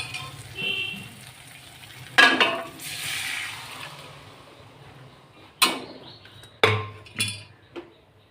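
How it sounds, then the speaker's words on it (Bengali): Boiled biulir dal is poured into a cooked spice mix in a pan, giving a wet splash and sizzle followed by a few sharp clinks of a utensil against the vessel, close and intermittent. "এবার আমি এর মধ্যে সেদ্ধ করা ডালটা ঢেলে দেবো।"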